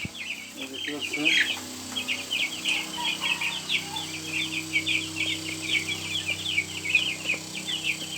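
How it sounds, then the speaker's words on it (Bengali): Thirty broiler chicks about nine days old cheep in a busy, continuous high-pitched chorus close by, with a brief burst of louder peeping near the start. "মুরগির বাচ্চা"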